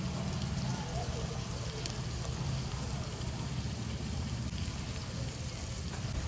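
Cashews frying in oil for an onion and dried red chilli chicken fry give a steady, faint sizzle, a low continuous crackle with no clear voices over it.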